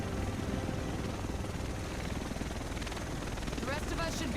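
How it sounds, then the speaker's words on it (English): In the video game The Division, a V-22 Osprey-style tiltrotor aircraft flies close by with a loud, steady rotor roar and heavy low rumble, and voices speak over it. "The totally not a V-22 Osprey."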